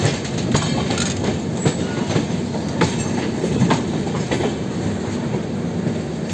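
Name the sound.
Rajdhani Express train clattering over a diamond crossing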